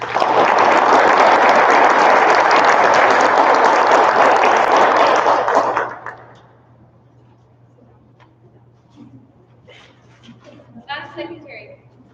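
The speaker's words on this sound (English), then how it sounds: "Let's give them one more round of applause." A crowd at a Greenhand ceremony gives a loud, dense round of applause that holds steady for about six seconds, then stops abruptly, leaving a low hum, scattered murmurs and faint voices afterward.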